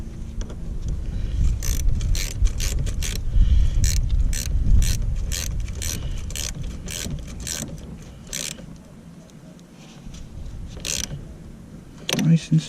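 A car battery cable terminal being tightened, with repeated short ratcheting clicks in a steady rhythm, close and fairly loud over low mechanical rumble.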